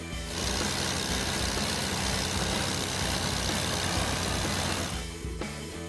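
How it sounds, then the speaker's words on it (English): A John Deere D17 tractor engine runs steadily at idle, a loud, continuous low rumble with a dense even throb that holds for several seconds before dipping briefly near the end. "the sound of the engine still dominates"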